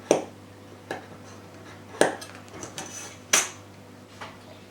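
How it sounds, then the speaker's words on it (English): A craft knife cuts the corners off a 1:12 scale dollhouse opening window, four sharp separate clicks and snaps spaced about a second apart, close and quiet, with no talk. "just get your craft knife, and then just cut each corner off"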